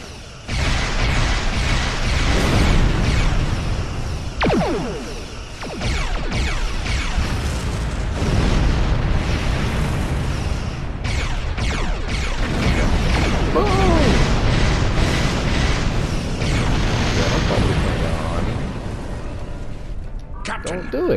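Enemy ships firing on the player's vessel in a Star Trek game: dense, loud bursts of weapon fire and explosions with clattering mechanical pulses, sustained throughout with music and effects layered together.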